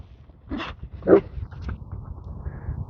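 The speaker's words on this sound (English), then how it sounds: "There's the two puppies out there on the edge." Small dogs give a couple of short yips and soft whimpers, moderately close, separated by quiet pauses over low background rumble.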